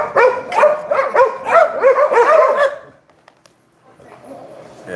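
Several pet dogs bark excitedly indoors, a quick, loud run of yips and barks that stops abruptly and gives way to quiet, then faint rustling.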